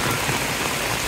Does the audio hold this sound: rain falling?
yes